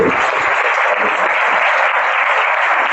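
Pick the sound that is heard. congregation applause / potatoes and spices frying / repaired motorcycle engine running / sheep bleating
congregation applause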